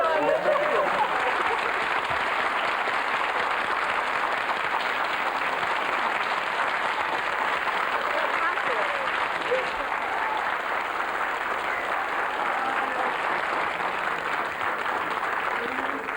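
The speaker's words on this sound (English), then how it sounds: "That was very nice of you to applaud my shoes." Studio audience applause on a television game show, a long unbroken wash of many people clapping at an even, moderate level, with faint voices and crowd noise mixed underneath.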